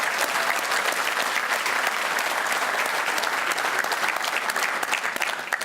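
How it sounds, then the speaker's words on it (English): A room full of people claps loudly and steadily for a team of college football coaches at a signing day event, dense and sustained for several seconds without letting up. "let's give these guys a round of applause for all the hard work that they put in this year"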